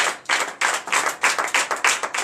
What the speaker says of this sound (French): Donnez de vive acclamation à notre Seigneur.